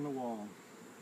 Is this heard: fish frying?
no